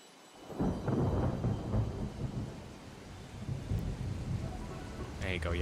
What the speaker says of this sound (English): There you go, yeah, some peaceful rain.